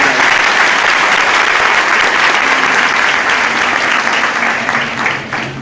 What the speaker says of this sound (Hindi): आप सबसे गुजारिश करूंगा एक जोरदार ताली बजाएं